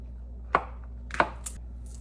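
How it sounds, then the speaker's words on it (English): A knife chops fresh home-grown garlic on a cutting board, two distinct sharp chops with a lighter tap after, close and clear over a low steady kitchen hum. "we'll cut up our garlic"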